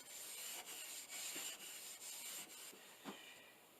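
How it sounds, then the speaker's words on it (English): Steel wool rubbing over wooden boards finished with three coats of varnish, a steady scratchy back-and-forth scrubbing with strokes about every half second, close and fairly quiet, no talking. "I go over them with steel wool to get them nice and smooth."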